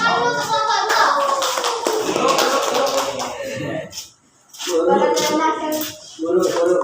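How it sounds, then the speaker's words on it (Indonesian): A classroom of students claps for a student group, a dense stretch of applause with children's voices and talk mixed in, pausing briefly and then resuming. "Tepuk tangan dulu untuk kelompok"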